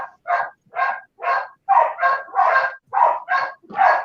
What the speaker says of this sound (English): It's just those dogs are just going out of whack.